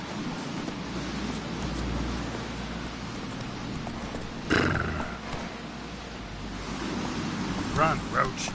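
Roach, Geralt's horse in The Witcher 3, runs through a steady rumble of game ambience, with a louder hoof-and-whinny burst midway and another flurry near the end.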